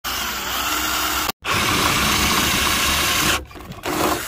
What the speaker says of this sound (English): now we just have to drill out these rivet holes